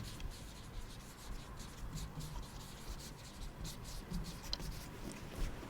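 Pen or marker writing by hand, a soft faint scratching and rubbing that continues steadily without pause.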